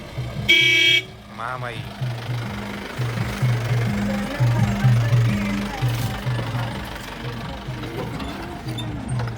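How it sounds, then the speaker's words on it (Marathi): A vehicle arrives in a village during Holi preparations, bringing wood. It gives a short horn toot, and its engine then rumbles and chugs steadily as people talk nearby. "हे बघा आपली गाडी आलेली आहे"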